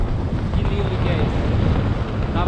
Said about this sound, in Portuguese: Não sei se o áudio vai ficar legal aí, mas tem bastante vento.